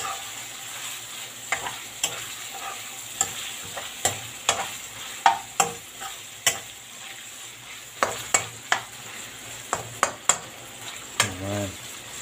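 Carrots sauté in oil for pancit bato, a steady soft sizzle broken by repeated scraping stir strokes of a utensil against the pan, close up with no talk.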